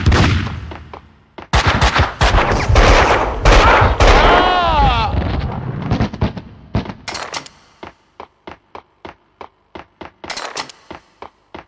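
Bursts of close gunfire crack out in rapid volleys alongside shouting voices, then give way to a regular series of isolated sharp shots near the end.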